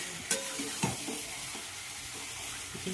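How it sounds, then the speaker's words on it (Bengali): Country chicken sautéing with spices in a pan, a dense, close sizzle with rhythmic spatula scrapes and stirring knocks, and no one speaking. "এবার চিকেনটা দিয়ে দিলাম, দিয়ে ভালোভাবে একটু কষিয়ে নিচ্ছি।"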